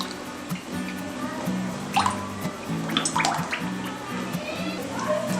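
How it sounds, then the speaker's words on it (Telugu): Cooking oil poured into a hot pan for deep frying raw banana bajji, a soft liquid trickle and faint drips over a steady kitchen hum, with a few brief clinks. "డీప్ ఫ్రైకి కావాల్సిన ఆయిల్ వేస్తున్నాను."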